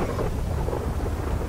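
Rain and rumbling thunder in the GTA V video game, a steady, loud wash of falling rain with low thunder rolling underneath, continuous and close throughout.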